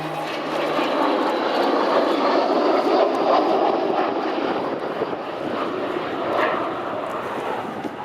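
A British Cold War bomber, one of 136 built and contemporary with the Valiant and Victor, flies over the Royal International Air Tattoo at Fairford, its loud, steady engine roar filling the air and swelling slightly throughout.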